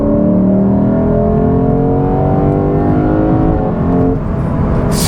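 The engine of a 2022 Lexus IS 500 F Sport Performance revs loudly as the car accelerates on a two-lane road, its tone climbing steadily in pitch with a roaring, continuous growl heard from inside the cabin.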